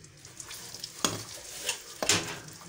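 Chopped onion frying in hot oil for chana dal, with a soft sizzle and two sharp stirring clatters about a second apart, close by.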